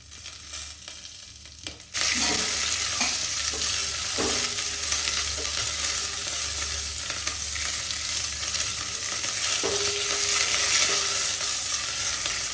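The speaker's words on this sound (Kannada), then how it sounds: "ಇದನ್ನೆಲ್ಲವನ್ನು ಈಗ ಚೆನ್ನಾಗಿ ಫ್ರೈ ಮಾಡಬೇಕು." After a quieter start, red and green chillies and curry leaves hit the hot pan and burst into a loud, sustained sizzle, with spatula clatter and scraping now and then as they are stirred, up close and without talking.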